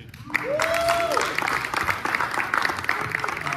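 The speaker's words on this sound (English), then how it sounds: "You can save your applause to the end" Audience applause rings out after a big band performance, a dense wash of clapping that swells quickly and stays steady, with a voice speaking over it partway through.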